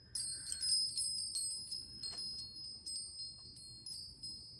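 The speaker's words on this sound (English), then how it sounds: "There's just something so peaceful about the sound of these chimes." Small brass bell chimes ring with bright, high metallic tones, one cluster struck at the start and then several fainter repeated tinkles decaying softly over a quiet background.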